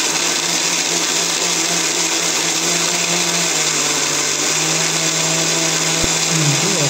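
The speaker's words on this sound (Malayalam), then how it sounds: "ഇനി നമുക്കിതൊന്ന് നല്ലപോലെ മിക്സിയിൽ അരച്ചിടാം." A kitchen mixer grinder blends mango with milk into a shake, a loud steady whirring roar holding for several seconds with a slight shift in pitch near the end.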